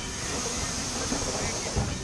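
A train rolls into the small Whitwell and Reepham station in Norfolk, a steady close rushing hiss and rumble with a slight bump near the end.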